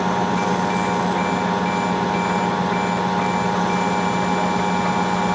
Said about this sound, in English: Now let's start the lathe up and try the same thing.